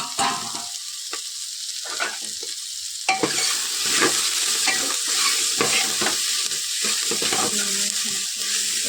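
Ghugni curry with potatoes and peas being stirred in a pan, a steady close sizzle with repeated scraping strokes of a spoon that grow busier and louder midway through, no voices.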